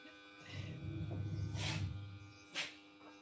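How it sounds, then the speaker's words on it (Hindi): A washing machine runs at a distance with a steady low hum and motor drone, punctuated by a couple of brief hissy bursts, faint and without talk. "ये बंद करो, वॉशिंग मशीन बंद करो।"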